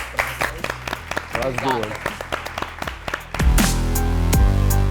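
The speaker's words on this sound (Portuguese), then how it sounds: "Queria pôr aplausos" Applause on a drag academy competition show, scattered claps mixed with talk and a brief musical sting, then a swell of louder music and cheering near the end.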